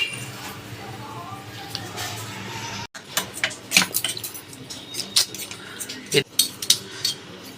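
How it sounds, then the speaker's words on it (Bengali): A spoon clinks and scrapes around a bowl, stirring a yeast mixture in a home kitchen, giving irregular metallic taps and knocks that grow busier partway through, close by and fairly soft. "এটা দিয়ে ভালো করে একটু মিশিয়ে নেবো"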